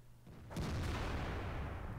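A single tank cannon shot from an IS-3 in a World of Tanks battle on Himmelsdorf booms after a quiet moment, followed by a long, heavy rumbling decay.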